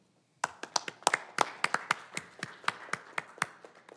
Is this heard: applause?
yes